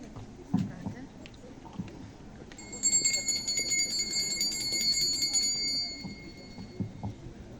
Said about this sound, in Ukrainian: Для вас звучить традиційний перший дзвоник.